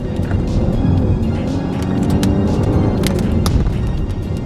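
A car engine drones continuously on a canyon road, a steady, moderately loud rumble with road noise and occasional sharp clicks and knocks.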